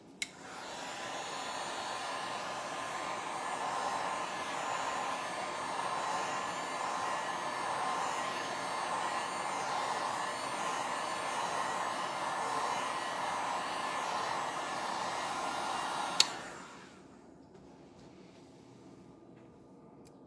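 A handheld dryer blows steadily on a freshly painted craft tag, a constant close whirring roar for about sixteen seconds before it clicks off into quiet.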